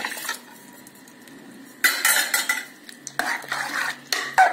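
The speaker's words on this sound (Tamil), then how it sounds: "தாளித்து வச்சிருக்கிற தயிரையும் அந்த பாலையும் இப்போ இதில் சேர்ந்து நல்லா கலந்துக்கலாம்" A spoon scrapes and clinks against a vessel while tempered curd and milk are mixed into rice for curd rice, in bursts of stirring after a quieter opening.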